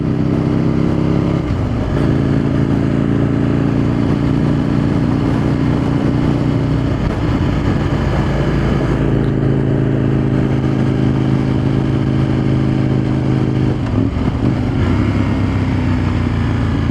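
An Aprilia motorcycle engine drones loudly and continuously while riding, its pitch rising and dipping with gear changes, throttle and engine braking, alongside wind rush and no talking.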